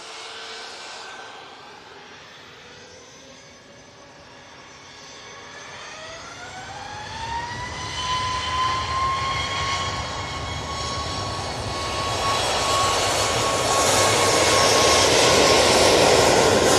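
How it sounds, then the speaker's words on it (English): A Ryanair Boeing 737 MAX 8 jet takes off at Manchester Airport, its engines spooling up into a rising whine that settles into a steady high tone, with a broad roar building louder and closer toward the end, no talk. "So off to Marseille we go with this Ryanair Max 8."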